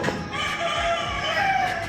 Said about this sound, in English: the chickens climb into the tree